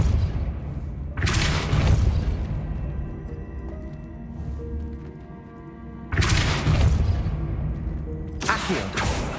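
A Depulso spell in Hogwarts Legacy on PS5 lands as heavy booming blasts, two loud bursts with rumbling, crackling impacts, separated by a quieter stretch of low game ambience.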